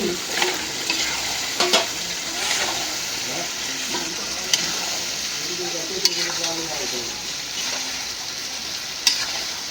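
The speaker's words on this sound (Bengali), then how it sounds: "এখন দিয়ে দিই মাংস।" Meat stirred into a frying spice paste with well-cooked onion, a steady moderate sizzle with occasional clinks and scrapes of a utensil against the pot.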